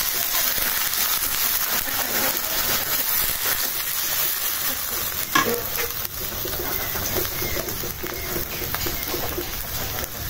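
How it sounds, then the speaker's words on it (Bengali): Water poured into frying onion and spice masala in a pan, a broad steady hiss near and loud, with a sharper burst midway and faint bird calls behind. "এখন একটু পানি দিয়ে দিই মশলা কষানোর জন্য"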